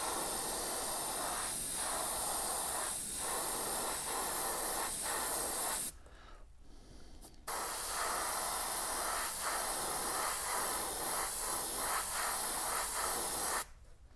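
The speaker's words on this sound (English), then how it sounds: "make sure we're spraying all right." Airbrush or spray gun coating a bluegill-pattern crankbait fishing lure, a steady close hiss running in long bursts with one brief pause midway and a short stop near the end.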